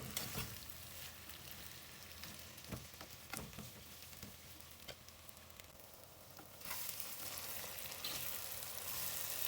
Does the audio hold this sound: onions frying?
yes